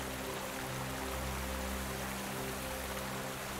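A strong river current in the game Expeditions: Viking: a steady, dense rush of flowing water that stays even and unbroken throughout.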